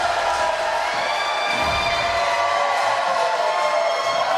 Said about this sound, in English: Look at this crowd. Listen to this crowd.